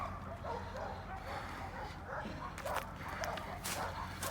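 Several puppies left behind near an old chicken farm by the St. Regis River in Haugan yelp and bark in agitated, overlapping bursts, moderately distant and steady over low outdoor rumble.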